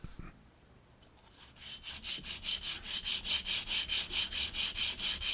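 A fake brass guitar saddle is sanded by hand, starting with quiet handling and then building into a steady, rhythmic back-and-forth rasping stroke, close and clear with no talk.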